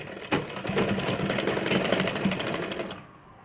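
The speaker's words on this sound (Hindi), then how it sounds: "यहाँ पे पूरे पे यहाँ पे सिलाई लगा लेंगे" A sewing machine runs steadily, stitching a belt onto a 30-size blouse, its needle chatter a dense, continuous rattle up close that stops abruptly near the end.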